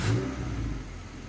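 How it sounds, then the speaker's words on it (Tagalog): A Honda Civic engine catches and revs briefly in a short, close burst that settles into a steady run, with no voices. "O start ko na itong makina."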